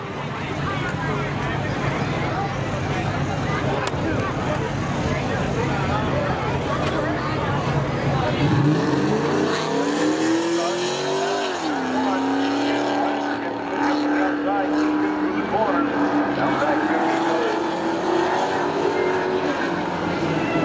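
Drag racing at Seekonk Speedway's Memorial Day spectator drags, a Pontiac Trans Am against a Chevy Camaro: steady loud engine roar with a rising, shifting engine note after a few seconds, under a commentator's continuous voice and crowd noise.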